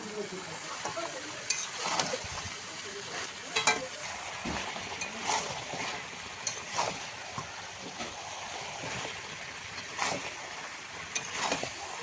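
Mutton is stirred and fried with yogurt in a pan, a faint steady sizzle broken by repeated scraping strokes of a spoon against the metal, irregular and close.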